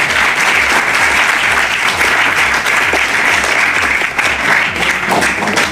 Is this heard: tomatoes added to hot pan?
no